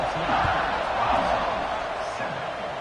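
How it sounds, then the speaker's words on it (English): A college football stadium crowd buzzes after a score, a dense, loud roar of many voices filling the whole stretch with a steady wash of cheering. "this crowd is buzzing after that last score"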